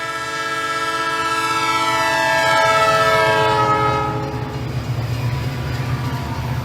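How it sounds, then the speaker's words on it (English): A Team Fortress 2 train sounds a loud, sustained multi-chime horn resembling a Nathan P3 of the Southern Pacific Railroad, held for several seconds over the low rumble of the passing train before fading. "seems to resemble the sound of a Nathan P3, a horn commonly used on the Southern Pacific Railroad"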